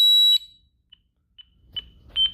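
A Honeywell security system alarm goes off with a loud, piercing high tone that cuts out quickly, followed by a few short, sparse electronic beeps and chirps.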